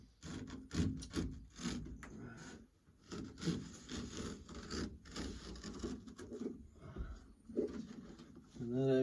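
A regular razor blade slicing and pulling through new carpet inside a 1964 Plymouth Fury: repeated close rough scraping and rasping strokes, with someone talking quietly over them.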